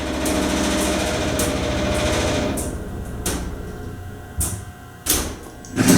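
An elevator machine in a building hums steadily and close, then settles into a lower drone broken by several sharp clicks and clunks of relays or brakes, with no talking.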